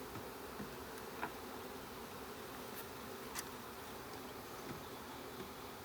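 Honey bees buzz steadily during a package install into a backyard hive, a faint, continuous drone with no one speaking.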